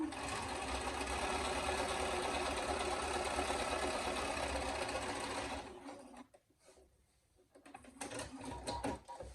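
Sewing machine basting a wallet interior together, a fast steady whirring stitch rattle up close for about six seconds, then stopping with a few soft handling clicks, no talking.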